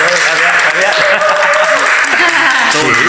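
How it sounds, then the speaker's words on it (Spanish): Audience applause at a live talk, steady clapping heard close and loud beneath a voice speaking over it throughout. "fuerte aplauso para ellos, para nosotros"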